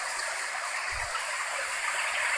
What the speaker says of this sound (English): Look at all this water, and it's still pouring.